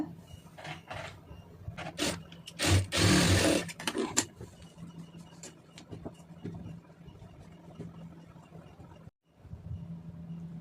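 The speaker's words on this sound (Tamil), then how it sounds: "இப்போ துணி தூக்காமல் இருக்க இதில் வந்து ஒரு தையல் போட்டுருங்க" A sewing machine stitches a cotton blouse lining, giving short faint runs of mechanical whirring and clicking with a louder burst near the start and quiet handling gaps in between.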